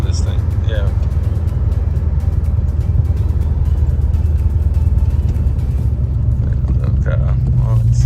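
A C4 Corvette drives hard at speed, its engine and road rumble droning loudly and steadily inside the cabin while people talk over it.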